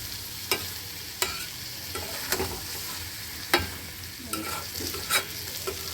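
Coriander leaves being stirred into a taro curry in a frying pan, a soft steady sizzle punctuated by about eight sharp scrapes and clinks of a spatula against the pan at irregular intervals.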